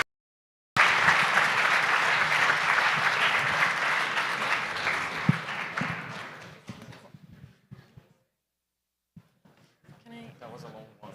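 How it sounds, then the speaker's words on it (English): Audience at a blockchain rollup conference in Bogotá breaking into applause after a sudden start, strong clapping that tapers off over several seconds, followed by faint voices and stray sounds. "A big round of applause to everyone"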